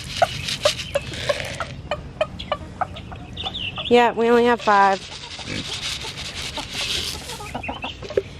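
Silkie chickens clucking in a backyard flock, soft repeated clucks and a short rising squawking call close by, mixed with people talking.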